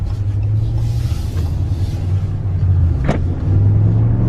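A Ram Rebel pickup truck, low on fuel, rumbles steadily up close from inside the cab, its low engine drone swelling slightly toward the end as it accelerates, with a brief higher whoosh passing midway.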